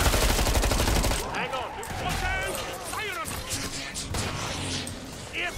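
Gunfire from Killing Floor 2 on an Outpost objective map, dense rapid shots and crashes over the first second, then sporadic impacts under ongoing game voices and talk.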